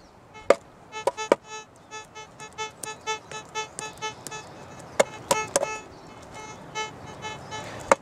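A Gold Bug 2 metal detector swept over rusty, iron-rich rock gives repeated tonal beeps of varying strength with a few sharp knocks and handling sounds, against a faint hissy background.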